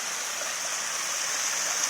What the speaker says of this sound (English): Well, so then we do cross the creek.